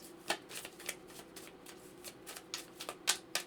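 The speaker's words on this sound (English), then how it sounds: "Let's pull some cards" Tarot cards shuffled by hand in a steady run of crisp riffling flicks and soft slaps, close and moderately quiet, with no voices.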